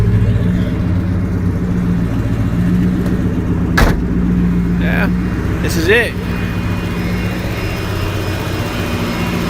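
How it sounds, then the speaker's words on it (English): A Toyota 1UZ-FE V8 swapped into a Mk II Supra idles steadily and close by with a deep, even drone, while someone talks briefly over it. "She's a healthy little engine, but she definitely hauls ass."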